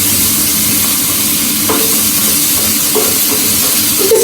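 Mushrooms, onion and garlic fry steadily in oil in a pan, giving a continuous close sizzle with a few soft stirring scrapes near the middle and end; no one talks.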